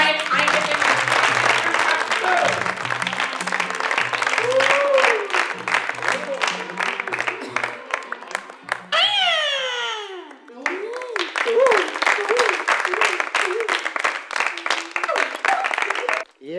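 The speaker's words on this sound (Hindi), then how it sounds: "तालियां बजाएं।" Children in a studio audience clap together in a loud, steady rhythm for a long stretch, with a whooshing swept effect and a brief pause midway before the clapping resumes. A voice speaks over part of it.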